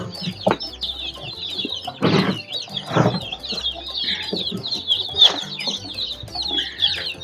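Day-old local chicks peep and cheep continuously while being fed, a busy, close chorus of high chirps with a few louder rustling or tapping bursts.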